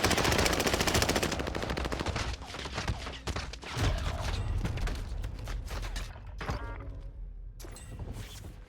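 Heavy gunfire in Call of Duty Warzone, near and loud: rapid automatic bursts fill the opening seconds, then broken volleys and scattered single shots keep going, with a few sharp cracks near the end.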